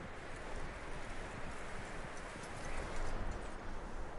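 Horse hooves clip-clop in a video game, a soft rapid patter of steps mixed into a dense, even wash of ambient noise, fairly faint with no talking.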